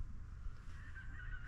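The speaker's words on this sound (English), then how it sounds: "Can you hear the cockerel in the background?" Outdoors, a cockerel crows faintly in the distance. The call is a thin, drawn-out note beneath steady low wind noise.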